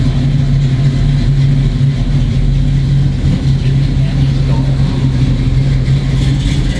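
A car engine runs close by with a loud, steady low rumble and slight rises in pitch, sounding mostly like a strong idle with little clear revving.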